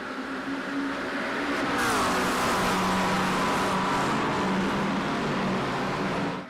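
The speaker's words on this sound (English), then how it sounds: "Turn the engines up." Several GT3 race car engines roar together at the start of a sprint race at Mugello in a sim racing game, revving and accelerating continuously as the pack pulls away.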